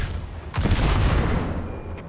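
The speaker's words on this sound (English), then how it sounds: "That explosion triggered some kind of seismic alarm." Cabal fuel exploding in the video game Destiny 2: a sudden loud boom that bursts in and then rumbles on for over a second before tapering off.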